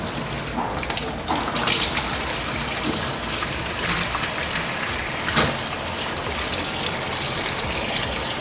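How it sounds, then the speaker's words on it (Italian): Chiodini (honey fungus) mushrooms are rinsed under running water, a continuous splashing gush with scattered clatters and swishes as the mushrooms are handled, steady and close throughout. "Sciacquiamo i chiodini per 3-4 volte"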